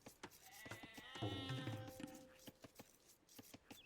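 A single sheep bleats once in the middle of an Age of Empires match, faint, over a background of sharp rhythmic clicks and tapping.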